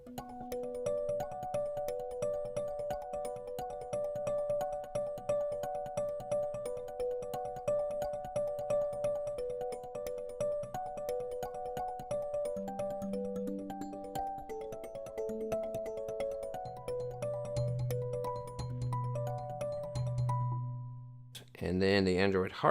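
A synthesizer patch called little energizer plays a sustained sequence of bright, bell-like repeating notes with shifting pitches and a lower held tone entering later, ending in a short cut to a different chord.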